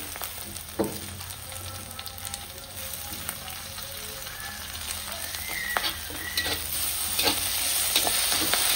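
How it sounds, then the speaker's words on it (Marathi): Onion and crushed chili thecha sautéing in a pan for a chana dal dry vegetable dish, a steady close sizzle with stirring scrapes throughout, growing slightly louder toward the end. "आता मस्त कांदा परतलेले. आता काय करायचं, आपण जे कुटलेलं ना ठेसा हे घालून घेतात."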